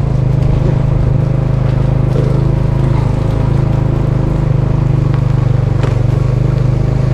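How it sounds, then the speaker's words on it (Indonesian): Loud, steady motorcycle engine drone with heavy rushing wind noise throughout, constant and close, riding through a housing estate in Batam, with no pauses or talking. "ini lagi di atas motor ini ya jadi mohon maaf apabila ada agak berisik sedikit"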